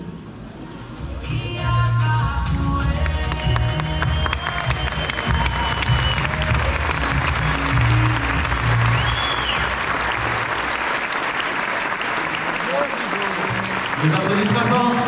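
A theatre audience breaks into sustained, loud applause after a festival performance, dense clapping filling the room evenly from start to finish, with a voice speaking over it.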